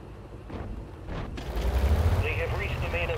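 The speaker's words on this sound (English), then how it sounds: "Heavy artillery is ready." Heavy artillery fires in the war game General Frontline, a series of deep booms building into a loud, sustained low rumble of barrage over a second half of continuous thunder, with a higher mechanical whine weaving through.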